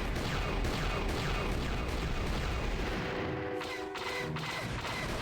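Turret fire in the Star Wars game KOTOR: a steady, dense barrage of blasts and booms runs continuously, loud and close, with a brief dip near the end before the firing resumes.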